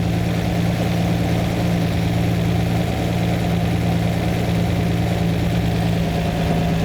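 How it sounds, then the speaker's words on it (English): A Lamborghini engine idles steadily with a low, even hum and a faint tonal drone, running on alone without voices while its carburettor mixture screws are adjusted. "I have to listen to the tone of the engine to hear every screw as I adjust it."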